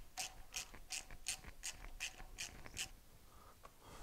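A hand ratchet snugs down bolts on a Honda GX390 13HP engine while an electric start is fitted. About eight evenly spaced clicking strokes come up close and crisp, then a few fainter clicks follow.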